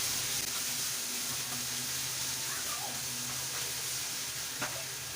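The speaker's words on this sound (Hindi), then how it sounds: "इसे थोड़ा सा हम लोग फ्राई करेंगे, जस्ट 2 to 3 मिनट्स तक ओनली।" Omelette mixture fries in oil in a pan, giving a steady, close sizzle that runs throughout with faint stirring scrapes over a low background hum.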